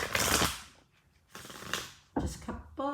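Tarot cards are shuffled by hand in a few separate bursts of riffling and sliding, close and crisp, with brief quiet gaps between the passes.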